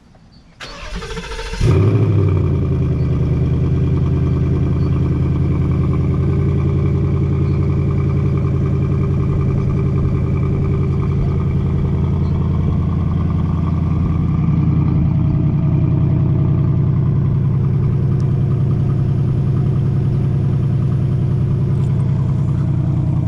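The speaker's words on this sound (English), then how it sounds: "I almost hopped in the car and started it without giving you guys a cold start." A 2018 Ford Mustang GT cold-starts with a brief crank and sharp flare, then settles into a loud, steady, rumbling V8 idle from the exhaust, heard up close and alone.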